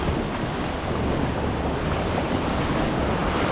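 Ocean surf breaks continuously at a beach during surf fishing, a broad steady wash of water filling the whole stretch with wind noise on the microphone and no voices.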